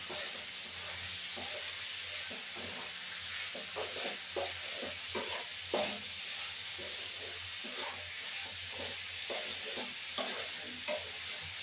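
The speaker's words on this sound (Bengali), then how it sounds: "এবার আলুগুলো দিয়ে দিলাম, কষা কষাই করবো।" Small potatoes stir-fried in a pan with a steady sizzle, the spatula scraping and clacking in irregular strokes against the metal throughout, close and alone without any talk.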